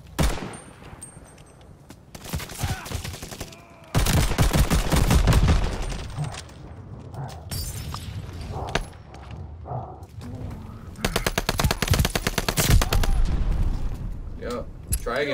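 Video game shooter gunfire in several loud bursts of rapid shots separated by quieter stretches, with voices talking over the action.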